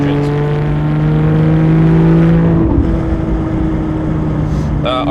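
Porsche 991-generation 911 GT3 RS with its high-revving naturally aspirated flat-six, loud and close from the exhaust, holding steady revs before an abrupt drop and gearshift, then settling back under load.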